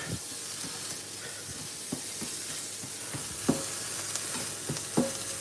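Shrimp frying in a pan for egg fried rice give a steady quiet sizzle and hiss, broken by frequent light taps and scrapes of a utensil stirring, with no talking.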